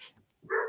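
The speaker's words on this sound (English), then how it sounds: "the dogs are barking" Dogs give a short, sharp bark at middle distance, with a faint earlier yip just before it.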